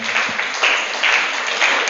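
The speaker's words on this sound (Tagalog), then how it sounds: "Palakpakan po natin ang ating Panginoon." Congregation at a church service applauding; a steady wash of many hands clapping at moderate loudness with a few swells, no voices over it.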